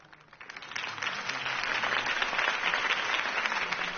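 Crowd applause for Harvey Dent's campaign speech in a Batman video game, swelling from a quiet start into steady, dense clapping that holds for several seconds.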